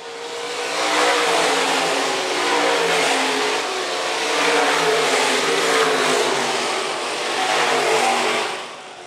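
IMCA stock cars racing at Phillips County Raceway, engines roaring and swelling in repeated waves as the pack passes, loud and continuous throughout, without talk.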